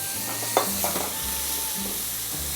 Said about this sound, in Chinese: 好，稍微炒一下的时候，来，我们刚刚的蔬菜高汤放一点进来。